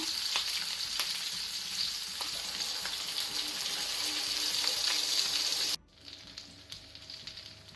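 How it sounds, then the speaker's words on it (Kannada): Mackerel pieces coated in green masala fry on medium flame, giving a dense, even sizzle close by that drops off abruptly near the end, leaving only faint background. "ಈಗ ಮೀಡಿಯಂ ಫ್ಲೇಮಲ್ಲಿ ಫ್ರೈ ಆಗಲಿ, 2 ಸೈಡ್ ಸಹ ಫ್ರೈ ಆಗಲಿ ಮೀನು."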